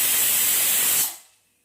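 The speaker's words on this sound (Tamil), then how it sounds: "குக்கர் ஒரு விசில் வந்துடுச்சு." A pressure cooker cooking ghee rice vents steam in a loud, continuous hissing whistle that holds steady for about a second, then quickly fades to silence.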